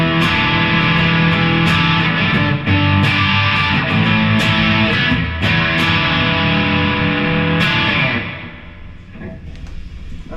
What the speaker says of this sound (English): I'm going to engage the Yo-Yo American distortion pedal